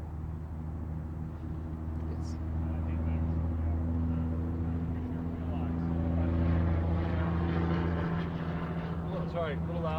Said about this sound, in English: Too much traffic.